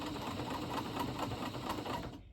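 A Janome/New Home Model 702 sewing machine running a straight stitch, its steady rapid needle rhythm whirring continuously and loud up close before it stops abruptly at the end.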